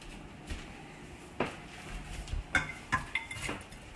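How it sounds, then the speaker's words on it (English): Carrots and broccoli being added to a soup pot for broccoli and cheddar soup, a few soft thuds and light metallic clinks of the pot and utensils, fairly quiet and close. "Now I'm going to add in my carrots"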